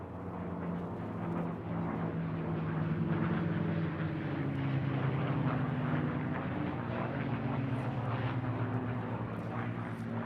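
A restored P-51D Mustang propeller fighter in 78th Fighter Group colours flies past at a VE Day air show at IWM Duxford, its piston engine a steady, loud droning roar that holds for about ten seconds.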